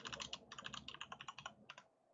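Quick, light keystrokes patter on a computer keyboard in a steady run of clicks, close but quiet, with a brief pause before a final few taps.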